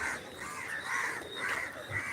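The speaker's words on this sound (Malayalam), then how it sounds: "കാക്കയുണ്ട്" A crow caws over and over at a farm: harsh, evenly spaced calls at moderate distance over a steady outdoor background, with no talking.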